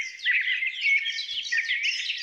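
A synthetic bird chirp from the Arturia Pigments 3 synthesizer plays continuously for a couple of seconds, bright and twittery, with nothing else underneath.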